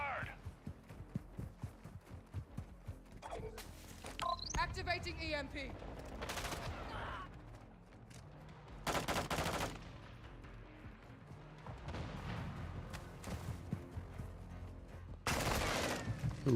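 Gunfire in the Call of Duty video game comes in repeated rapid bursts and volleys, loud and close, separated by quieter stretches of in-game noise.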